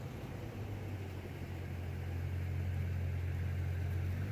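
A car's engine hums steadily in morning traffic, a low, even rumble close by that swells slightly louder toward the end, with no voices.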